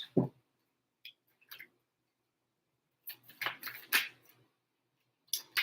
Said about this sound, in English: Let me shuffle the cards up.